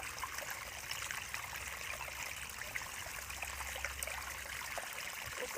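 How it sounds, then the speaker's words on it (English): Water rushes steadily through dam spillway culverts into a river, a constant hissing, splashing flow heard fairly close, alone and unbroken. "Now all 3 spillways are running to capacity, and then they are dumped in the river."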